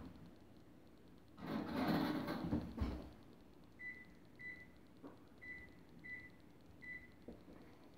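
A kitchen oven timer set for 30 minutes while a chocolate bundt cake bakes, giving a series of short, faint, evenly pitched beeps in small groups after a louder burst of handling noise.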